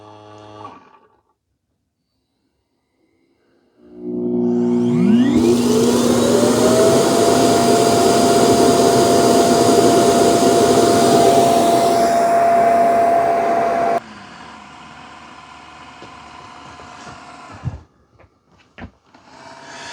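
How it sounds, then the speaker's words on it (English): A Eufy C28 robot vacuum spins its brush roller: a motor whirs up with a rising whine, holds a loud steady drone for about ten seconds, then drops away to quieter clicks and rustles. "Sounds like it's spinning the brush roller."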